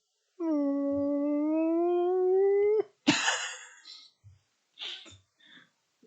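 A voice imitates the call of a Star Wars purrgil space whale with a long, steady, tonal hum that ends abruptly, followed by a breathy cough-like burst and a few short vocal noises.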